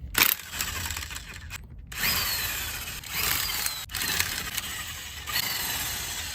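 A power tool whirs in several short bursts, with brief pauses between them, while removing a rear wheel from a 2015-2020 Ford F-150. It sounds close and fairly loud.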